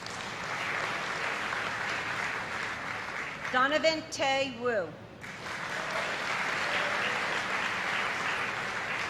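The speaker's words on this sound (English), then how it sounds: "Please give a big round of applause for these students earning a place." Graduation audience at a 2019 high school ceremony applauds steadily, a broad crowd roar of clapping. Midway a single name is read over a loudspeaker, and the clapping continues around it.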